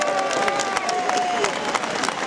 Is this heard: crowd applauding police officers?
yes